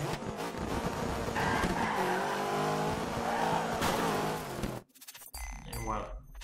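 In the Dirt 3 racing game, a rally car drifts with a loud, sustained engine roar and squealing, skidding tires for several seconds, then the sound cuts off abruptly into a quieter, chirpy tail.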